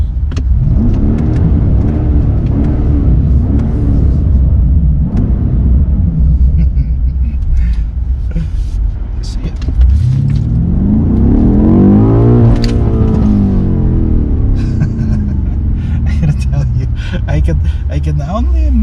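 A 2022 BMW M8 Competition luxury coupe roars through a tunnel, its loud exhaust booming and echoing, with a rising rev swell midway, while a voice talks over the engine throughout.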